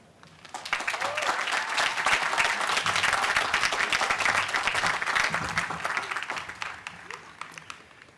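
An audience at a university commencement ceremony applauds to welcome speaker Bob Duggan. The loud, sustained clapping builds quickly, holds for several seconds and then fades.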